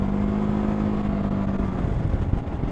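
Engine of a Can-Am Ryker 600 three-wheeler cutting power, a steady close-up drone with a low held tone that drops away partway through, leaving rough engine rumble and road noise.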